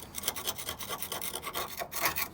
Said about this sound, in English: Take the bolt out and just scrape off the loose